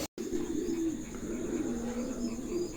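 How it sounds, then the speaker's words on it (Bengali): A pair of pigeons coo softly and repeatedly in low, rolling calls, close by in a quiet space with faint background noise and no talking. "দেখছেন মার্শাল্লাহ দেখার মতন এক জোড়া কবুতর"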